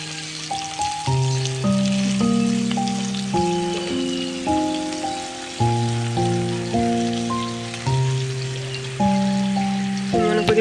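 Cut potatoes fry in hot oil, a continuous soft sizzle running beneath louder steady background music.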